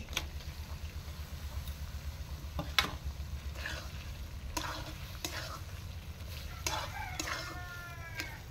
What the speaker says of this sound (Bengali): এই পর্যায়ে আমি পনিরগুলো দিয়ে দিচ্ছি